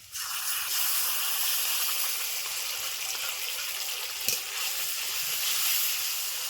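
Tomato puree hitting hot oil in a pan bursts into a loud, close hissing sizzle that holds steady and bright for several seconds, with one small clatter partway through and no talking.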